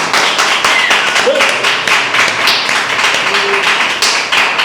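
A congregation applauding at a church youth gathering, loud continuous clapping close by with faint voices mixed in under the claps.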